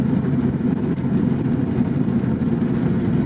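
A ZAZ-968M with its rear-mounted V-shaped engine, heard from inside the car during an off-road trophy event in 2021, as a steady, rough, close engine drone.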